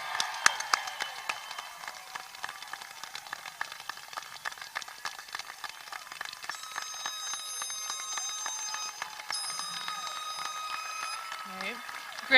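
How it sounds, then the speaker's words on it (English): Families fill a high school commencement hall with sustained applause for the graduating Class of 2021, a steady crackle of many hands clapping at some distance, with a few voices and whistles rising above it. "Families, let's give them a big, big round of applause."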